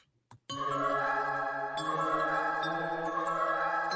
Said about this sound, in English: ding the bell. Ding the bell notification so you know when me and bro is going live